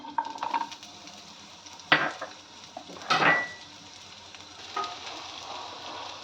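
Chopped onions drop into hot oil in a pan, sizzling with a few bursts of stirring and metal scraping, then settling into a steady quieter fry.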